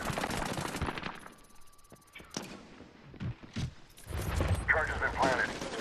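Gunfire in the first-person shooter Medal of Honor Warfighter, with bursts of shots and impacts mixed with game effects, while players talk over the action.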